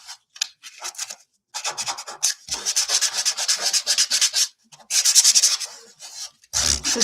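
Sandpaper rubbing back and forth over a painted wooden door hanger to distress it, in close, loud bursts of scratchy strokes separated by short pauses.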